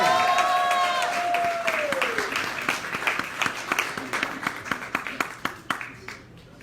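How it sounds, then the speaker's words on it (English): An open-mic crowd at Busboys and Poets claps a performer up to the stage, steady applause swelling under a host's voice and whoops, then thinning into scattered sharp individual claps. "Let's clap DeJuan Marcel all the way up to the stage."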